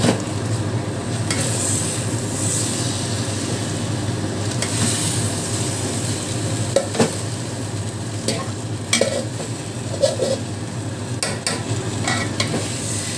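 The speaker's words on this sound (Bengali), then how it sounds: "এবার দিয়ে দিচ্ছি শাকগুলো।" Leafy greens frying in a pan with vegetables and lentil dumplings, a loud continuous sizzle with repeated scraping and clinking of a spatula stirring, no speech.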